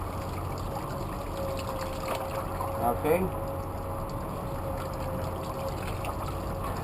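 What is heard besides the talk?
cold shower water running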